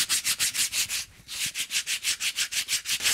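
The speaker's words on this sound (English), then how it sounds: "I'm not wrapping the sandpaper around a piece of wood, I'm actually using my hand" Sandpaper held in the hand rubs back and forth over a carved wooden shoe last, giving a fast, even rasping rhythm of strokes, close and loud, with a brief pause partway through.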